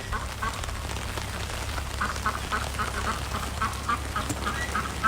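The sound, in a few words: Pekin ducks quacking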